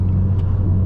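Ferrari SF90 Stradale hybrid with the Assetto Fiorano package heard from inside while driving, a steady deep engine rumble, close and loud, brief and continuous with no talking.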